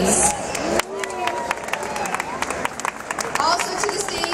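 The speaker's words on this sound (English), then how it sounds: "Big round of applause, please." Crowd at a Vancouver Euro Folk festival stage breaking into applause, dense steady clapping with scattered cheers and babble filling the space for several seconds.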